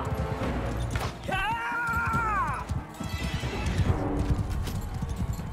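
A horse in the video game Mount and Blade 2: Bannerlord gives one loud, drawn-out neigh with a falling pitch, heard close and clear over busy battle noise and hoofbeat-like clatter.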